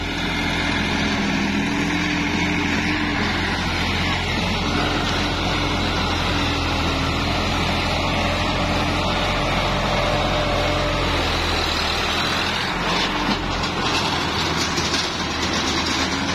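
A Sonalika Silver Jubilee edition tractor pulling a rotavator through a field in L4 gear at 1800 RPM, a loud, dense, constant engine drone with churning soil noise, close up and unbroken.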